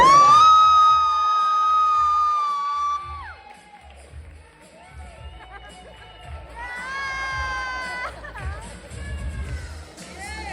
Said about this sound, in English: And now a big round of applause for Sheena's brother and family